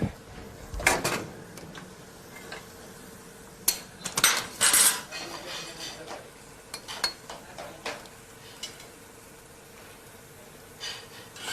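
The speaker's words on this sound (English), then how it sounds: "I'm going to swap these two pans around" Metal pans are shifted around on a stovetop during Italian cooking, giving several sharp clanks and scrapes scattered across the stretch, close and moderately loud, with quieter shuffling and kitchen noise between them.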